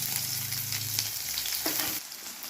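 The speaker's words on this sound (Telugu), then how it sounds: "ఆయిల్ బాగా హీట్ అయిన తర్వాత ఆనియన్ వేసుకోవాలి." Onion pieces sizzling in hot oil for a beerakaya tomato curry, a steady crackling hiss with a brief low rumble early on, close and moderately quiet.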